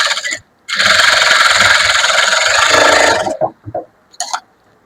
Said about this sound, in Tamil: இப்ப நம்ம படிமான தையல் போட்டுக்கலாம்.